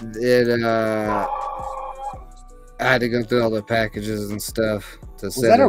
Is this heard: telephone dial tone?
no